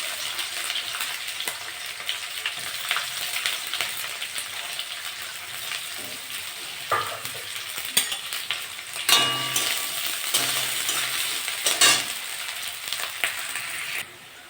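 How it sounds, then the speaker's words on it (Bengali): Cumin seeds, green chillies and onion frying in hot oil give a steady close sizzle with occasional louder crackles and stirring scrapes, no voices. "আমি একটু জিরে ফোড়ন দেবো। দুটো কাঁচা লঙ্কা আর পেঁয়াজ দিয়ে দেবো।"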